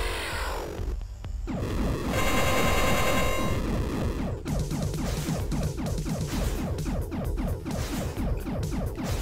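Glitch gun firing in the Axiom Verge video game, a rapid stuttering burst of electronic crackles and buzzing pulses repeating loudly for several seconds.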